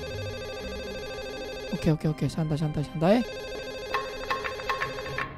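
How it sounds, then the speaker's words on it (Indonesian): A telephone rings inside a free horror video game, a sharp electronic ring repeating in quick pulses that stop and then start again, loud and close, with someone briefly talking over it. "Bawel banget telepon mulu lu."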